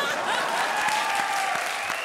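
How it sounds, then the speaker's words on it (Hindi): Studio audience at a comedy show claps for a songwriter in a brief, steady round of applause, with a voice carrying faintly over the clapping. "जोरदार तालियां उनको"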